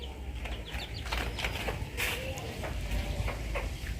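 Hens cluck softly and intermittently in a busy farmyard, with scattered short calls and rustling over a steady low background.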